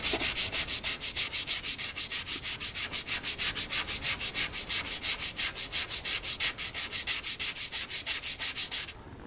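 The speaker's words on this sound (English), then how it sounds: "Now I'm gonna clean it with some sandpaper." Hand sanding of a Ferguson TO-20 tractor water pump part with sandpaper, close and steady, a fast regular back-and-forth scratching rhythm of about four strokes per second that stops near the end.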